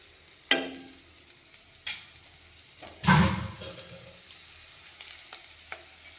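Peanuts frying in a pan give a quiet, constant sizzle punctuated by a few sharp stirring clatters and one louder scraping burst near the middle.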